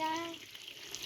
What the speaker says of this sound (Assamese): এইপিনে আলু চলাইছে, আলু চলাই আছোঁ আমি।